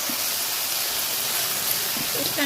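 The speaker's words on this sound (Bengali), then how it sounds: "আমার মামি ফ্রাই করছে ইলশা মাছ" Hilsa fish fries in a pan, giving a steady, loud, broadband sizzle and hiss that runs without a break.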